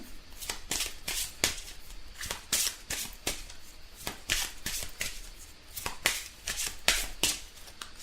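Gaia oracle cards shuffled by hand close up, with a rapid run of crisp riffling bursts and slaps in an uneven rhythm, fairly loud with no talking.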